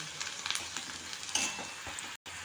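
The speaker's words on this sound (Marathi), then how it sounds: "तेल गरम झालं की त्याच्यामध्ये बारीक चिरलेला कांदा ॲड करूया" Chopped onion frying in hot oil for a Marathi-style dry tomato chutney, giving a steady broadband sizzle with occasional stirring scrapes and pops, close and moderately loud, with a brief dropout near the end and no talk.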